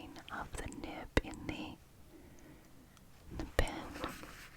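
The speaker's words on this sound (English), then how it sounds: "Now it's the clicking of the nib in" A pen nib clicks while writing, giving a couple of sharp, isolated ticks under soft whispering.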